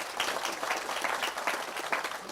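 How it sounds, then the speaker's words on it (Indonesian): A short burst of audience clapping at a gathering, brisk and steady with no voices over it. "tepuk tangan untuk beliau"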